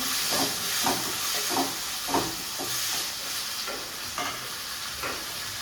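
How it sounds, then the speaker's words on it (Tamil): Ginger, garlic and half a tomato frying in a pan, stirred with a spoon that scrapes in short regular strokes over a steady close hiss and sizzle, with no talking. "ஒரு அரை தக்காளி சேர்த்து நாலு நல்லா கிண்டி விட்டுறோம்"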